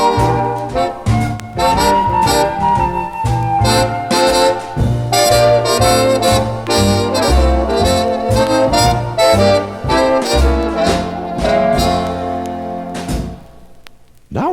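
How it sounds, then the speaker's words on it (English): Ensemble of flute, bass violin and lyre playing continuously, with sustained melodic lines over low bowed bass notes and plucked tones, fairly loud throughout before stopping abruptly near the end. "The Pythagoreans played using a flute and an early version of the bass violin and a lyre."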